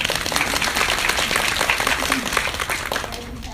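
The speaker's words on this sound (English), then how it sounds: "Just clap her up" A room full of people claps steadily and warmly for a woman being introduced, the applause continuous and fairly close with no pauses.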